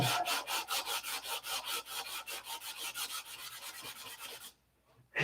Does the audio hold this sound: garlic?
no